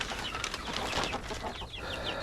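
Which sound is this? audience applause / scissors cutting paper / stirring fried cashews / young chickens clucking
young chickens clucking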